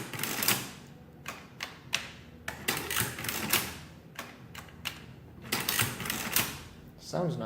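A 1916 Burroughs Class 3 adding machine clicks and clatters in uneven mechanical bursts, close and fairly quiet, with someone talking briefly over the end.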